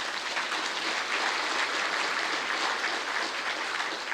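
Steady applause from a conference audience at a rural water event, many hands clapping evenly at moderate loudness throughout with no talk over it.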